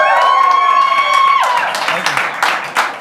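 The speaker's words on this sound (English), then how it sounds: "we got to get a round of applause for Kendall Minnie" Crowd applause for a jockey in the winner's box at a horse race, clapping that swells and carries on while a voice talks over an amplified announcement.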